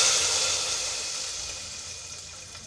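Liquid pours into a pot of sambar in a home kitchen, a faint, steady hissing splash that slowly fades over a few seconds, with no talk.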